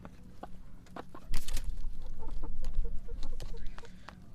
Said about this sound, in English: We got chickens and cottage cheese.